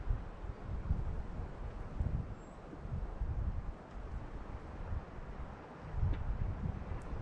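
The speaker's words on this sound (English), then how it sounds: "There's the wind." Outdoor wind buffets a microphone at a fishing spot, low gusty rumbles that swell and fade over a quiet background with no voices.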